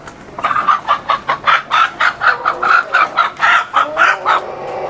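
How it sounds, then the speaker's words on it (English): Live chickens at a farmers market stall in China cluck loudly and repeatedly in a steady, close rhythm, with no talking over them. "you can literally pick your own chicken while it's still clucking"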